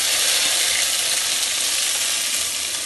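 Ginger paste hits hot oil already seasoned with turmeric and asafoetida, giving a loud, dense, continuous sizzle close up with no talking.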